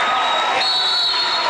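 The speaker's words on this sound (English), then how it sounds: "Listen to the crowd go" Crowd noise from spectators at a high school boys basketball game in Minneapolis, Kansas, a steady, loud wash of murmuring and cheering that fills the gym throughout, with voices mixed in.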